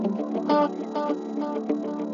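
A short excerpt of a song plays with steady rhythmic instrumentation and pulsing beats, clear and moderately loud with no talking.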